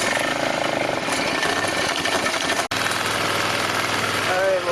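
A Polaris engine runs after carburetor rejetting, lean and seemingly with a vacuum leak, giving a steady loud rattling idle with one brief dropout midway.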